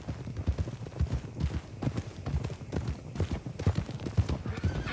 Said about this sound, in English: These horses to Clemens Cove, quick, before we run into any more trouble.